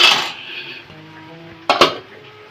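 A plate is set over a cooking pot in a home kitchen: a bright clatter of dishes at the start, then two quick sharp clinks of crockery near the end, close and fairly loud.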